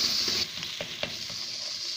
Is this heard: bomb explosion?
no